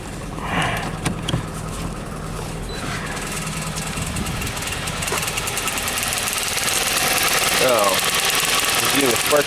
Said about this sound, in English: No wonder it's misfiring.